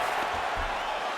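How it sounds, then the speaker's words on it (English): A video game UFC 5 arena crowd roars in a dense, steady wash of cheering and noise, loud and continuous throughout with no distinct voices standing out. "All right, crowd absolutely loving it as the fighters, however compromised, make their way back to the feet."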